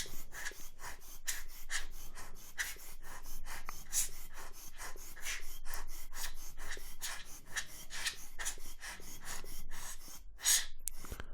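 Repeated short puffs of air from a rubber rocket blower clean a Mamiya RB67 medium-format camera, close up, in a fairly steady rapid series with varying strength and no talking.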